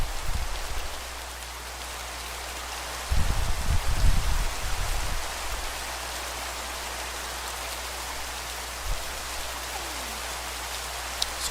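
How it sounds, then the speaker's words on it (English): Heavy rain in the Minecraft mod Pixelmon forms a loud, even wash of hiss from start to finish, broken by a few low thuds early on. "It is raining heavily."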